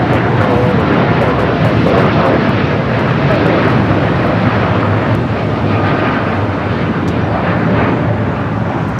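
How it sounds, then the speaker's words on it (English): A Boeing 787-9 Dreamliner jet at Los Angeles International Airport, a loud steady roar of jet engines that holds at the same level throughout, with a voice talking faintly underneath. "Our flight was heading to Newark in the 787-9 Dreamliner."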